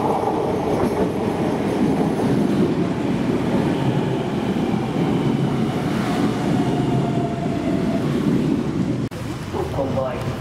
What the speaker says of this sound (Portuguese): O comboio suburbano CP Comboios de Portugal, procedente de Porto São Bento e com destino a Braga, vai dar entrada no linha número 2.